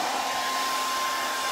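Hair dryer blowing steadily at close range to dry a coat of Paint Couture paint, a continuous, even airy whine with a faint tonal hum and no talk.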